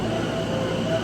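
Steady rumble of a train ride in Japan, a continuous rolling drone with a faint whine above it, heard from inside the carriage with no one speaking.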